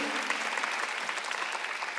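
A church congregation applauds during a Sunday worship service, a steady, dense wash of many hands clapping at moderate distance, filling the whole stretch without speech.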